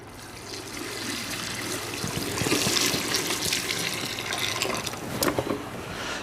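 Hot water is poured off boiled potatoes into a sink, a continuous splashing trickle and gush that swells mid-pour, close and fairly soft, with no talking.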